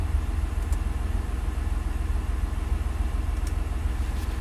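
A 2004 Mitsubishi Pajero GDI engine runs steadily at idle during a performance diagnosis, a continuous low droning rumble with an even pulse, close and moderately loud, with no talking over it.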